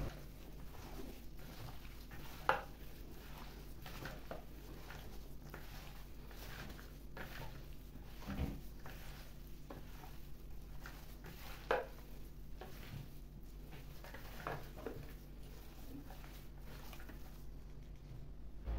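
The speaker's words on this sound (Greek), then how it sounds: "ρίχνουμε τη μισή μαρινάδα στο κρέας και ανακατεύουμε πάρα πολύ καλά" Chunks of pork for skewers are stirred by hand in a marinade, giving quiet, wet, squelching pats and soft knocks that repeat irregularly at close range, with no talk.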